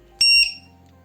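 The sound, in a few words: battery charge indicator beeping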